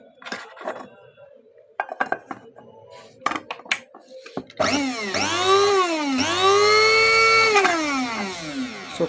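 Small repaired spice and coffee grinder: light clinks and handling knocks at first, then the motor starts and runs with a loud, smooth, high whine, dipping briefly midway before spinning up again, close and without talk.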